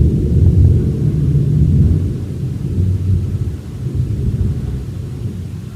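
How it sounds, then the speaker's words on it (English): Thunder rumbles heavily outside a house, a deep, sustained, rolling roar that swells and fades slightly over several seconds with no voices. "That's the thunder rumbling in my house."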